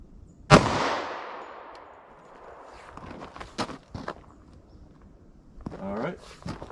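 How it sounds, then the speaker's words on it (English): A single sharp, loud .45 ACP shot from a short-barrel pistol fired into ballistic gel, with a long decaying echo afterward, followed by faint clinks, shuffling footsteps and a short burst of speech. "Now, let's try our 45 ACP."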